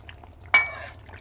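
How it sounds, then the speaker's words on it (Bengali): A potato curry is stirred in a pan after coriander leaves, garam masala and roasted cumin powder go in, giving one quick scrape with a brief sizzle that fades out over a quiet background. "এবার একটু নেড়েচেড়ে মিশিয়ে নেব।"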